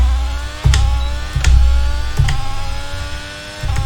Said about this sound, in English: an idle car sounds so much different.